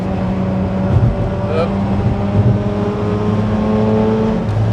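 A 2003 Mazda RX-8 rotary engine pulls smoothly up a hill, a loud, even drone with steady engine tones heard from inside the car while people talk over it.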